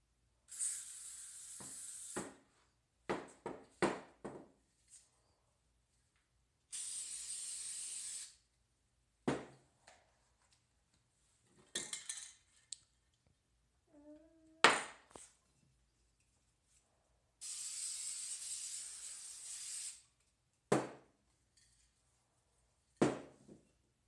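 Spray paint can hissing in bursts of two to three seconds, separated by silences, clicks and clatter, close and fairly loud, used to paint planets.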